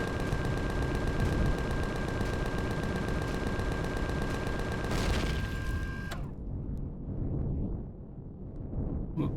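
Sustained rapid gunfire against Zirax sentry guns in Empyrion Galactic Survival, a dense continuous barrage for about six seconds with a steady tone under it, then cutting off to quieter low rumble and faint game ambience.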